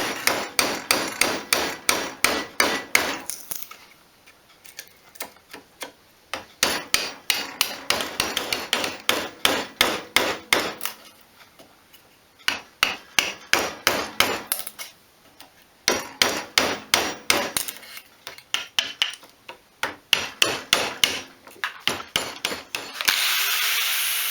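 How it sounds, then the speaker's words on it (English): Repeated hammer blows drive a chisel into pallet wood, landing in rapid bursts of sharp knocks separated by short pauses, close and loud. "I'm going to try and chisel out as much as I can with just a hammer and chisel"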